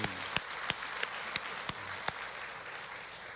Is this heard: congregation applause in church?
yes